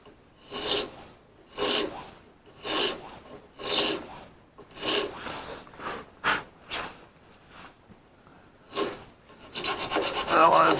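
A hand file rasps across a piano key on a 130-year-old piano under rebuild, heard as about a dozen close, distinct back-and-forth strokes in an uneven rhythm with short pauses between them, ending in a faster flurry of scraping.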